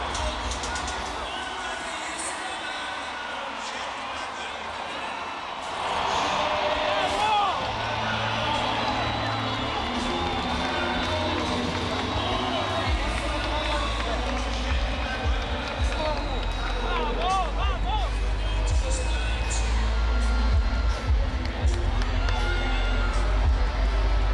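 A home crowd at an SLS Super Crown skateboarding contest cheers and shouts, rising sharply after a quiet start and staying loud and busy, with an announcer talking over it.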